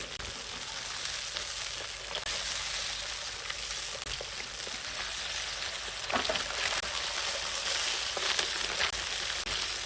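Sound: squid frying in oil

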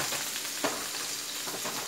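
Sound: hamburger sizzling in a pan after being flipped

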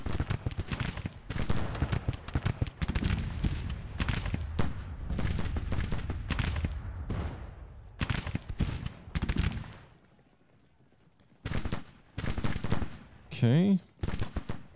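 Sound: artillery battery firing in Grand Tactician: The Civil War video game

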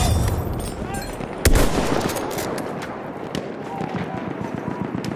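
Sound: machine gun fire in the video game Battlefield 1

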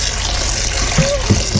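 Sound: shrimp being rinsed under running tap water

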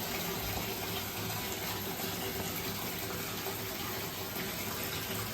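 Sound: water gushing from pump pipe into drum

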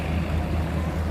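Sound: tugboat engine with turbo whistling

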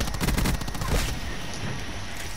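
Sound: shotgun gunfire in the video game Call of Duty Black Ops 4

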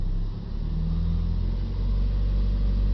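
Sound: Ford diesel engine revving above idle

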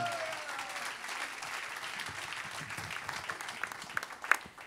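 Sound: congregation applause in church

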